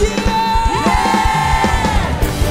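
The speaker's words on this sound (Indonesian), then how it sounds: "Sorakan" A church congregation cheers and yells during a worship service, a dense sustained crowd roar with whoops, layered over music and singing throughout.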